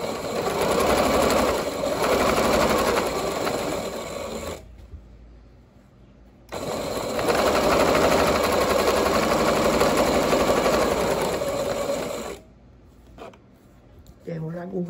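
A sewing machine stitches shorts in two long continuous runs with a steady whirring drone, close and loud, separated by a brief pause.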